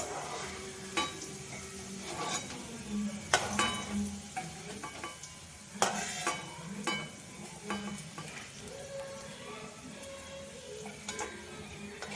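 Onions frying into beresta for a Bengali home-cooked dish, a steady low sizzle with scattered ticks and stirring clatter from the pan, moderately close and without talk.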